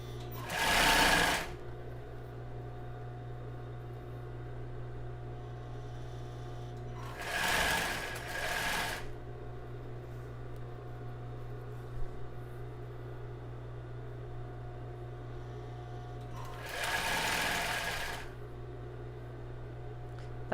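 Sewing machine stitching elastic onto panties near the top edge, running in three separate bursts of rapid whirring stitches, each a second or two long, with a steady mains hum and quiet pauses between.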